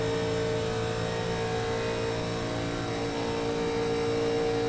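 A race car engine in iRacing roars loudly and steadily at high revs, a dense sustained drone with no talk over it.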